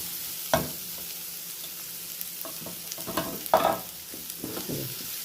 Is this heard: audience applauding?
no